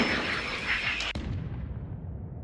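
Russian artillery shelling: a heavy, rumbling blast rolls on, then a single sharp crack hits, followed by a lingering low boom that fades out slowly.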